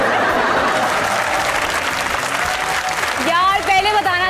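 Studio audience applause on a Pakistani comedy talk show, a full, even burst of many hands for about three seconds before a voice cuts in and carries on over the fading claps.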